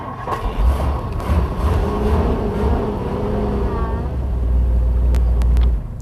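A 1962 Ford Thunderbird engine cranks and rumbles in cold mountain conditions, a steady low engine drone that swells and holds loud for several seconds, with faint clicks near the end.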